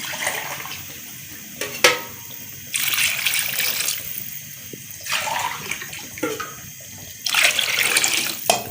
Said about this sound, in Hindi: 2 किलो के आसपास पानी डाल देंगे